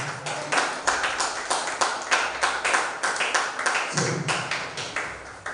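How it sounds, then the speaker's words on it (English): Steady applause from a group at a creative writers' bootcamp, many hands clapping in a quick, even rhythm for several seconds, fairly close. "we will have to clap for her"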